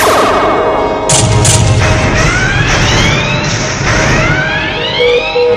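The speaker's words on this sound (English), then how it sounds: "the Azrael is firing photon torpedoes" Photon torpedoes fire from a starship in a Star Trek fan animation, loud layered sci-fi weapon blasts with rising and falling pitched tones, several overlapping shots swelling over a dense continuous background rumble, with no talk.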